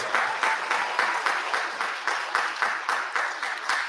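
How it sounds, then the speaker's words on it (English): At a gala dinner, the audience applauds a table of guests with rhythmic, fairly uniform clapping in steady pulses, moderately distant and filling the room without other sounds. "All right, round of applause"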